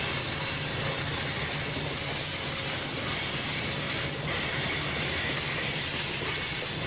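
A model railroad train runs around a sweeping curve into the main yard, a continuous close rumble and rolling wheel noise with faint squealing, steady and loud throughout.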